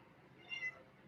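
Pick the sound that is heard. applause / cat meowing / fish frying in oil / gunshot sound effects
cat meowing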